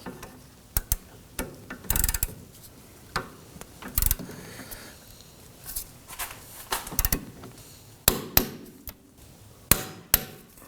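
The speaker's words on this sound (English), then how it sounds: "Let's torque down the bolts to 47 foot-pounds." Torque wrench tightening axle bolts during a rear CV axle replacement on a 2005-2009 Subaru Legacy, heard as scattered sharp metallic clicks and knocks spread irregularly across the stretch, with quieter ratchet-like mechanical rattles between them and no talking.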